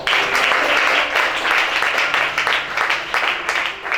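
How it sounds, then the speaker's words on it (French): A church congregation applauds steadily and loudly throughout, a dense wash of many hands clapping that swells slightly in places. "Acclame ça."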